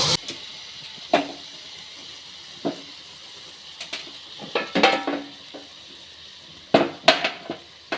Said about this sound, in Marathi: जो खोबऱ्याचा ओला मसाला बनवला होता तो आता त्याच्यामध्ये ओतत आहे